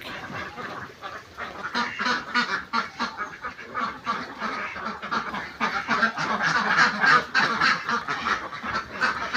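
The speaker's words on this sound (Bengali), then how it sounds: "এখন হাঁসের ভিডিও দেখাবো।" A flock of egg-laying ducks quacks continuously in daylight, many overlapping calls at close to mid distance, busy and fairly loud throughout.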